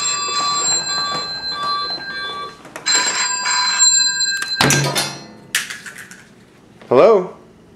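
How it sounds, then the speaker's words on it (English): A phone rings indoors with repeated bright electronic ringtone tones, followed by some thumps and a short voice near the end. "Sounds like Grandma's ringtone."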